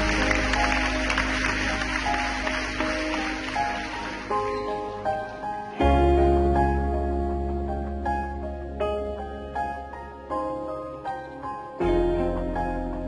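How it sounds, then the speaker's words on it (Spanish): A church congregation applauds after a sermon, broadband clapping for the first few seconds that fades as sustained music with organ or keyboard tones takes over and continues to the end. "quiero invitarlos que nos pongamos de pie y le demos un aplauso al Espíritu de Dios"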